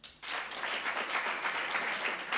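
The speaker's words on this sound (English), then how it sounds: "Please clap for them." A seminar audience breaks into steady applause after a brief quiet moment, the clapping dense and even but fairly faint, as if heard from some distance.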